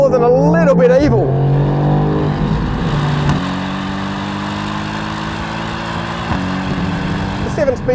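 A Mercedes-AMG GT R Pro accelerates hard, its engine tone climbing steadily through gear changes with a snarling, loud note, while someone talks over much of it.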